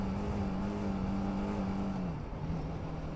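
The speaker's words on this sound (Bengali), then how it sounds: "গাড়ির যখন আওয়াজ হয় তখন গাড়ি চালিয়ে ভালো লাগে না" Steady engine drone and road rumble from a car driving through traffic between Belghoria and Golpark, with a low hum that dips slightly near the end and no voices.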